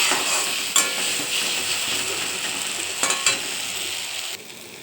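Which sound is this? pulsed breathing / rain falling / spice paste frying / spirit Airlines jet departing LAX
spice paste frying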